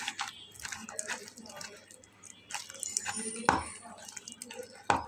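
Thin batter being mixed by hand in a bowl, with wet squishing, drips and an occasional clink of the bowl, heard close and fairly soft while a person talks.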